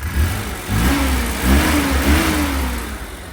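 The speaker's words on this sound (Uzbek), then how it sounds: "Xuddi boya qanaqa gaz bosgan bo'lsam, xuddi shunaqa gaz bosdim" A Damas car engine running on gas revs up as the pedal is pressed, a close, mid-pitched rising drone that swells and eases in short pushes over a rumbling idle.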